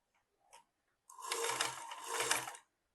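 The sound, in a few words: sewing machine stitching center seam of baby frock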